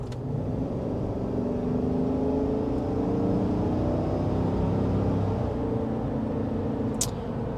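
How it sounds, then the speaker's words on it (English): A 2023 Chevy Silverado 1500 Trail Boss pickup on mud-terrain tires gives a steady, continuous road rumble and tire whir with low engine drone throughout, fairly loud and even, with no talking. "the mud terrains really have a big impact. Yeah. So you will hear a little bit of tire noise for sure."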